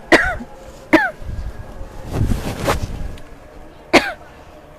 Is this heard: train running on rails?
no